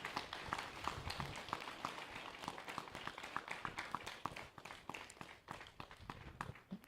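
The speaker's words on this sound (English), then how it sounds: "So big round of applause for Sanjay sir." An audience at a meditation summit applauds, a dense patter of many hands clapping steadily over several seconds, with a few sharper individual claps standing out and no talk.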